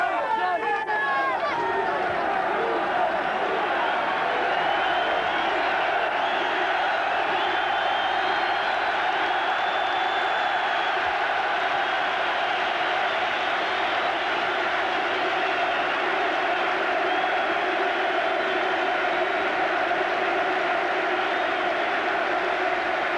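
A sellout stadium crowd of 37,000 Newcastle fans roars steadily throughout Kevin Keegan's final game, a 1983/84 Second Division match against Brighton, forming a dense, continuous wall of cheering and babble with no clear breaks.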